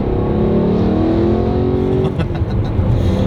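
A BMW E92 M3 on summer tires in freezing winter weather accelerates hard, its engine note climbing loud and close, then briefly dipping before pulling again, with no speech.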